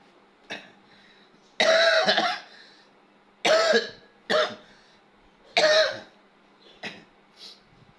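Persistent coughing from one nearby person, with several harsh bursts and a few short throat clears spaced irregularly over a quiet background.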